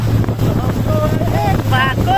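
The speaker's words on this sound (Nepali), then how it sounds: "हावा त डेन्जर लाग्यो त टोपी उडाउने अरे" Strong wind buffets the microphone outdoors on a trip through Kulekhani toward Chitlang in Makwanpur, a steady low rumble running throughout while people talk and sing over it.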